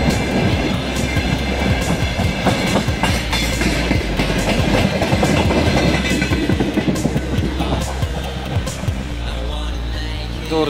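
A broad-gauge freight train rolls past a level crossing at Durdy, a loud continuous rumble with rhythmic clickety-clack of wheels over rail joints and some metallic squeal, heard close throughout.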